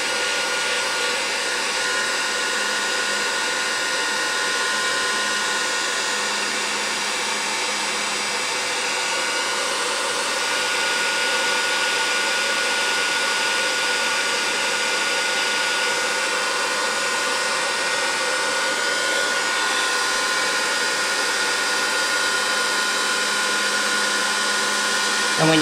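A hair dryer blows steadily and loudly over rust-textured paper, a constant close whooshing drone that holds unbroken for the whole stretch.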